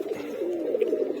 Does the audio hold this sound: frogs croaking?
no